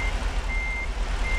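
A truck backing up in American Truck Simulator, its reversing alarm beeping in steady, evenly spaced tones over a low rumbling engine.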